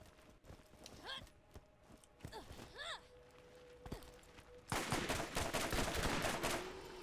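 Borderlands gunfire: a few sparse shots with whistling, chirping game effects and a voice in the opening seconds, then a loud, rapid burst of automatic fire lasting about two seconds.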